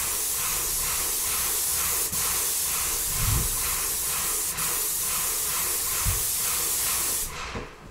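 A continuous loud hiss of a paint sprayer coating a wet-area ceiling, with a steady pulsing rhythm, cutting off near the end.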